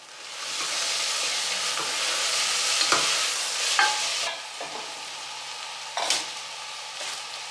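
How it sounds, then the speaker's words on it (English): Broccoli stalks sautéing with onion and garlic in a pan: a steady bright sizzle with intermittent scraping stirs and a few sharp utensil clicks against the pan, close and fairly loud. "So we'll saute those broccoli stalks up with the onions and garlic."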